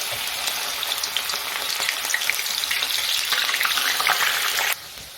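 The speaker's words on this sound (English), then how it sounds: "Now time to deep fry our mushrooms" Mushrooms deep fry in hot oil with a loud, continuous bubbling sizzle up close, cutting off abruptly near the end.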